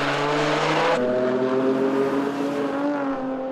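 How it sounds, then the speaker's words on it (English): A Golf race car at the 24 Hours of Nürburgring accelerates hard out of the pit lane on fresh tires, its loud engine note holding steady tones with a sharp shift near the first second, close and continuous throughout. "The car shoots out of the pit with new tires."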